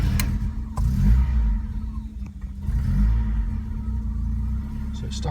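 A cold Ford XR3i Cabriolet, fresh out of storage, cranks and fires, its engine catching and rumbling into a steady idle at close range, with a low drone and a few rising surges.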